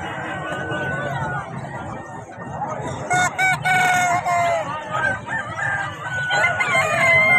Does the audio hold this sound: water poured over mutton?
no